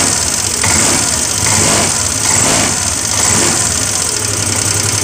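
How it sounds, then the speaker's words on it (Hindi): A Hero Pleasure Plus BS6 scooter engine runs steadily at idle after starting, a loud continuous mechanical hum with slight swells in speed, close to the listener and with no talking. "अब गाड़ी को स्टार्ट, गाड़ी हमारा स्टार्ट है।"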